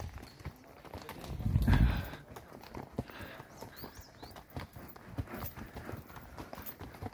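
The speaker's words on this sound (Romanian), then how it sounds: "Cai, cai." Horses walk on a mountain trail, their hooves clip-clopping in a steady, close, uneven rhythm over a rough ground, with a louder thud of hoofbeats early on.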